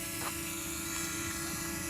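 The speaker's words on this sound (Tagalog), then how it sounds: "Sa drone ayan, subukan natin yung drone" A DJI Mini 2 SE drone flies with a steady, high-pitched electric buzz from its propellers, constant and fairly close, without talk.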